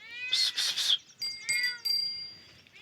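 A cat meows several times in quick succession, close and fairly loud, followed by a couple of softer, drawn-out meows.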